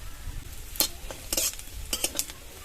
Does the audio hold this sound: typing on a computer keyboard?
no